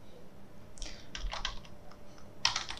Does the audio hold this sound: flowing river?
no